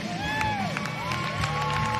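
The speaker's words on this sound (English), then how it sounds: "Big round of applause for Underhand Hand." Crowd cheering and whoops at a STIHL Timbersports women's competition, a steady wash of noise with a few clapping hits, while an announcer's voice rises and falls over it for the whole span.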